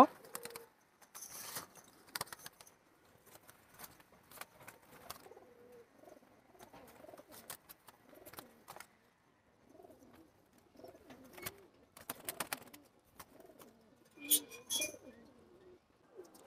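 Pigeons just put into a cage coo softly in repeated low bursts, with scattered clicks and rattles of the cage between them.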